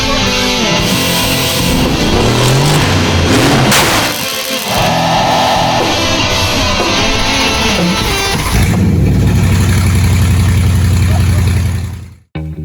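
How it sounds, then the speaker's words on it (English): A 1969 Mustang Fastback fitted with a 2012 E63 AMG bi-turbo engine rumbles and revs loudly up close, its pitch rising and falling, then it settles into a steady idle before cutting off abruptly. "1969 Mustang Fastback, fitted with an E63 AMG bi-turbo engine out of a 2012 car"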